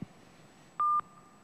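A dropped phone line on a live call-in show gives two short steady electronic tones in quick succession, clear against faint background hiss.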